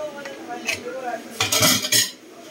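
Dishes and cutlery clatter and clink in a sink during washing, with bursts of scraping and knocking that grow louder near the end, close by and with no talk.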